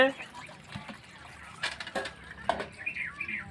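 Water gushes and splashes steadily after being released, a continuous rushing flow with sharper bursts, heard outdoors with voices talking over it.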